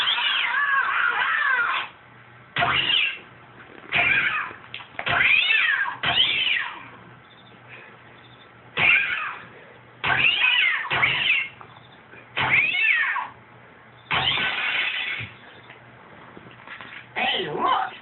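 Cats fired from a cat launcher yowl in repeated loud bursts of meows and drawn-out caterwauls, separated by short silences, with a thin, muffled tone.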